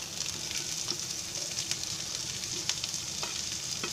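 Onion and green chili frying in a pan for masala dosa give a steady, close sizzle with occasional small crackles and stirring sounds, with no talking.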